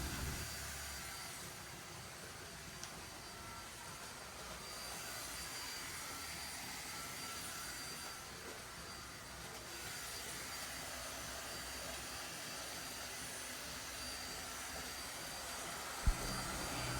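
A Deerma DX700 vacuum cleaner runs with a steady, loud broadband whoosh of motor and suction airflow, holding an even drone for the whole stretch with no talking.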